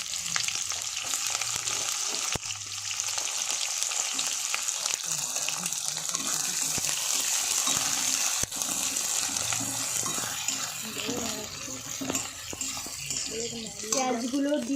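Onions sizzle and fry in a hot pan for aloo dum, a steady crackling hiss with occasional stirring scrapes and clinks, close up and continuous.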